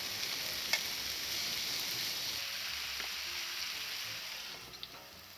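Pork neck sizzles in a pan at a winter campsite, a soft, even frying hiss that holds steady and fades slightly toward the end, with a couple of faint clicks and no voices.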